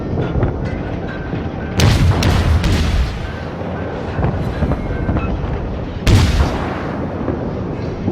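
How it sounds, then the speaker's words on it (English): Naval gunfire booms in World of Warships, two heavy salvos a few seconds apart over a constant rumbling engine and sea bed. "Oh dear, here comes some shots."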